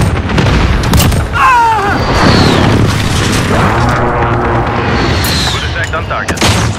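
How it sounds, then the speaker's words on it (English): Heavy booming blasts of a precision airstrike in Call of Duty: Modern Warfare rumble continuously, loud and close, with rolling explosions and mechanical battlefield noise under a radio voice. "Precision airstrike ready."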